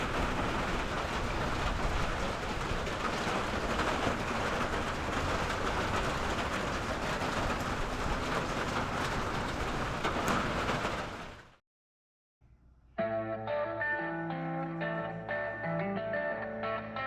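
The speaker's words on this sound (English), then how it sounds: "It's raining." Steady rain falls for about eleven seconds as a dense, constant hiss with no talk, then cuts off abruptly, and music follows.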